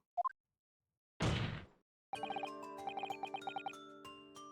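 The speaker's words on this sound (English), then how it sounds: "oh, it's bells." Bells ringing in a video game: a bright cluster of repeated metallic chimes rings out after a couple of short tones and a brief noisy burst, then decays, fairly quiet with no speech.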